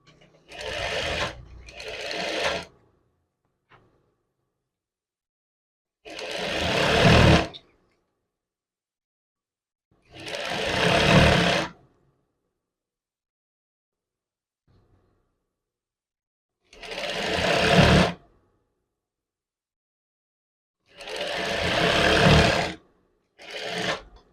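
A sewing machine stitches a men's chef's jacket in five or six separate loud runs of whirring, each lasting one to two seconds, with silent pauses in between where the fabric is turned.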